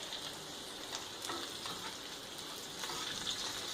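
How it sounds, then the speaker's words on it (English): A cheeseburger patty and onions fry on a hot griddle with a steady, hissing sizzle and faint crackles throughout, constant and close with no talking. "The cheese is now melting on top of the burger. And my onions are caramelizing."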